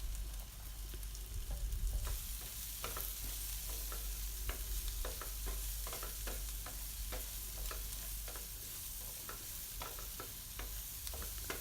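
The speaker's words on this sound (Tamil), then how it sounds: "இப்போது நம்ம வச்சுருக்க பரங்கிக்காவை அதில் சேர்த்துட்டு ஒரு 2 மினிட்ஸ் அதிலே நல்லா வதக்கிக்கோங்க." Yellow pumpkin sautés in a pan for a Tamil pumpkin poriyal, a continuous soft sizzle with frequent rhythmic scrapes and taps of a stirring spoon, close and fairly quiet, no talk.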